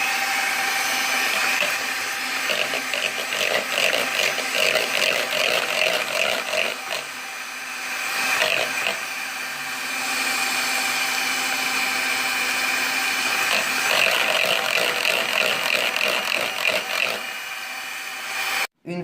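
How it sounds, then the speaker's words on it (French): Egg whites whipped with vanilla sugar in a bowl for a Nutella cake, a steady, busy whirring drone with fast rhythmic beating that carries on loudly, dips briefly midway, and stops abruptly at the end. "On met un petit peu de sucre et on continue de fouetter légèrement."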